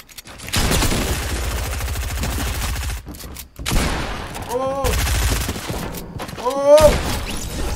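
Rapid bursts of Fortnite gunfire rattle in long volleys with brief pauses, loud and close, joined by a few short whooshing or ricochet-like sweeps.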